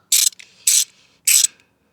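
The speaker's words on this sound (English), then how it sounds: "Also help if we had the wrench going the right way." A ratchet wrench clicks in three short, close bursts with brief pauses between them during a clutch job on a KTM Duke 390 motorcycle. No speech is heard.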